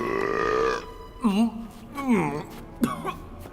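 A loud, gurgling belch rolls out in a drawn-out stretch, followed by two more shorter burps after brief pauses, close and prominent.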